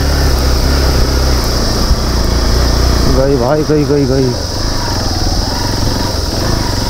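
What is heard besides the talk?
Royal Enfield Bullet motorcycle climbing steep slope in first gear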